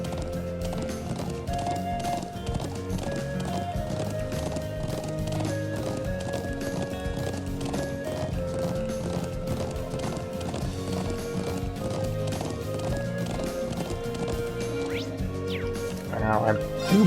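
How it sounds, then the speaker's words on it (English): Horse hooves clip-clop at a steady galloping rhythm in the video game Trails of Cold Steel, running continuously under dense game music. "Wait, is this horse faster?"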